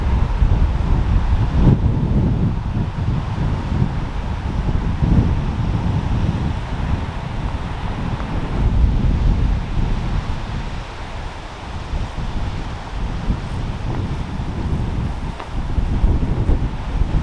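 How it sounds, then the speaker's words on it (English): Strong wind buffets a hilltop escarpment on the Cotswold Way, a loud continuous roar with rumbling gusts against the microphone throughout, no voices. "it's getting a bit breezy"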